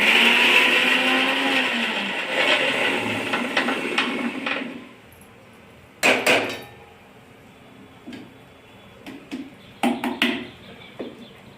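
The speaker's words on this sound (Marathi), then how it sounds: "आता हरभरे सुद्धा थोडं बारीक करून घेणे" Mixer grinder grinding green chickpeas whirs loudly for several seconds, then stops, followed by scattered knocks and clatters of the jar and lid.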